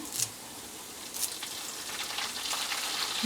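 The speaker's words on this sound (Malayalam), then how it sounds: "ഇത് കുറച്ച് കുറച്ച് കറിവേപ്പില ഇടാൻ പോണേ" Curry leaves drop into hot oil and spit, a crackling sizzle with short popping bursts that builds and stays steady at close range.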